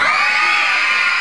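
Crowd at an interschool rock concert final in Ayacucho cheers and shouts with high voices, including children, a brief loud wash of whoops and applause with no talk.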